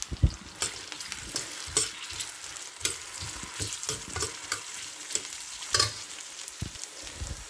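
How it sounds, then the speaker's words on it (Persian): Strips of sliced onion fry in hot oil in a pan, a steady close sizzle broken by repeated scraping stirs every half second or so, with no voices. "مایتابه ای که روغن داغ شده، پیازه خلال شده رو میریزم و کمی تفت میدم."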